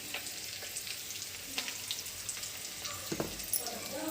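Asafoetida dropped into hot oil while cooking kichidi gives a steady, soft sizzle, with a few brief stirring scrapes rising above the frying hiss.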